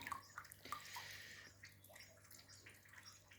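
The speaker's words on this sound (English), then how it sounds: "for now I'm washing those seeds" Seeds being washed and sorted by hand in water, with soft sloshing and light splashing throughout, fairly quiet and close, with no talk.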